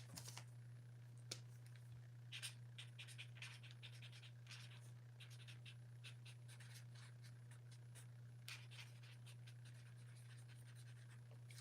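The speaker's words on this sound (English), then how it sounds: "I can write that one down real quick." A pen scratches quickly across paper in short bursts of handwriting, faint and close, over a steady low electrical hum.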